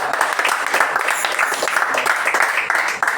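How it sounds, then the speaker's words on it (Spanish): A church congregation applauding, dense close clapping filling the room for a few seconds, with faint voices mixed in. "un aplauso a la palabra"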